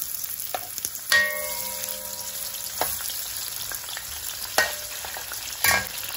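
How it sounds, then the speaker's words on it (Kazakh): Chopped onions fry in heated oil in a pan, a steady crackling sizzle broken by several sharp clatters and scrapes of stirring, with one brief tonal ring of metal. "Кішкене пиязымыз қызарғанша үйтіп қуырамыз."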